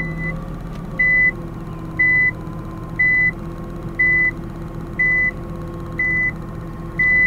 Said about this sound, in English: Why is there a beeping sound?